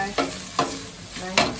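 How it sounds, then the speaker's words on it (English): Escovitch fish fries on a cooker, its steady sizzle broken by four sharp stirring or scraping strokes in a pan, close and alone with no voices. "I turn on the cooker to let it fry"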